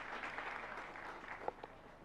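Faint, sustained applause from a gathered Digambar Jain community audience honouring a donation, soft and distant with a few sharper claps near the end.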